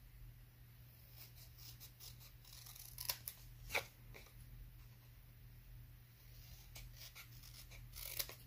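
Scissors cutting paper or felt for a holiday gift tag craft, a few faint close snips and crisp cuts over a low steady hum, with no talking.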